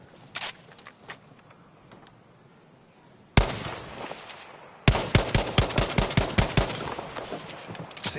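Gunfire in the video game Battlefield V: a few scattered shots, then a single loud blast, followed by a rapid, sustained burst of automatic fire at close range.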